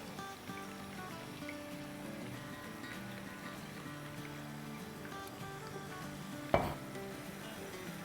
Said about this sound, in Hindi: इसका हम चूल्हा ऑन करते हैं और इसमें डालेंगे तेल अराउंड 4 टेबलस्पून के आसपास